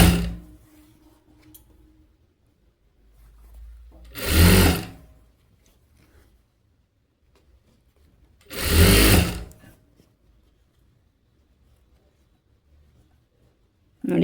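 Sewing machine stitching a puff sleeve, heard in two short, loud bursts of running separated by quiet pauses.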